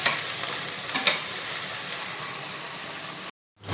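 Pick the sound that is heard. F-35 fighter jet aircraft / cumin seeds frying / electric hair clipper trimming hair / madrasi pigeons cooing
cumin seeds frying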